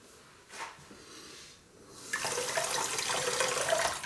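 Tap water runs into a sink while a straight razor blade is rinsed, a faint splash first, then a steady louder gush of flowing water that continues to the end.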